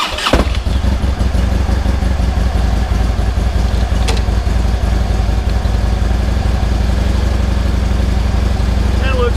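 A motorcycle engine cranks and catches, then settles into a steady, loud idle that runs on without a break for several seconds. It rumbles low and constant close by, with no talk over it.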